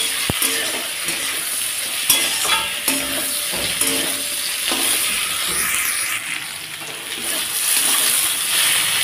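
Vegetable stems fry in hot oil in a pan for an okra recipe, giving a continuous sizzle with repeated scraping strokes of a stirring spoon and occasional metallic taps, close and steady throughout.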